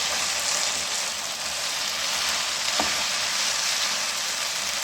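Chicken macaroni with spaghetti frying in a pan, a steady loud sizzle running without a break, with a faint stirring scrape partway through.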